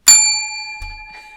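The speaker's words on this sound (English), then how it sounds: "I really enjoy the bell" A single bright bell strike rings out loud and close, its clear tone sustaining and slowly fading, with a soft low thump partway through.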